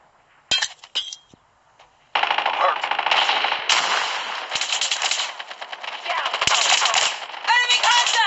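Call of Duty gunfire, starting with a few sharp isolated shots and then breaking into sustained loud automatic bursts with metallic clinks and mechanical clatter, close and continuous.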